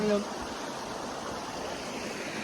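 A river stream flows on a hot day with people sitting in the water: a steady, even rush of water fills the whole stretch, with a brief voice at the very start.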